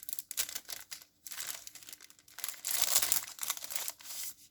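A double paper greeting card, 13 by 13 cm, and its envelope pulled out of packaging, heard as close bursts of crinkling and rustling paper with brief pauses, no voices.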